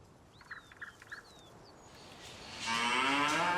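Cows mooing in the cow area beside a biogas plant in Farming Simulator 19: three short moos, then a rising wash of chirping birds.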